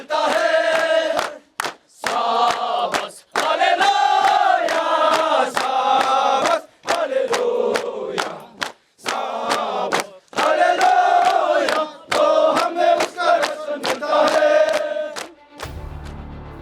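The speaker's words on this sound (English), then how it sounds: "The Terriers now sing this song and clap their hands and stomp their boots in perfect" Soldiers of a Terrier battalion sing a rousing song in loud unison, with sharp hand claps and boot stomps punctuating short pauses between phrases, a full group chorus close and strong.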